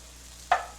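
A short scrape and sizzle as mushroom-onion gravy is stirred in a hot pan, a single brief burst over a faint background hiss.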